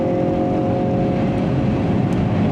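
Hyundai Veloster N with an 8-speed dual-clutch gearbox pulling hard at speed on the Yongin circuit, a loud, steady engine and road roar heard from inside the car without pause.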